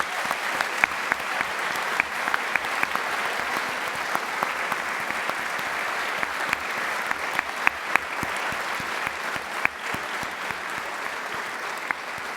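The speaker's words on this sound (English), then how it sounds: "Everyone, please give a round of applause to all the loved ones that support you today." Audience at a graduation ceremony for a master's degree in economics and finance claps in sustained, even applause, a dense steady patter of many hands lasting throughout without letting up.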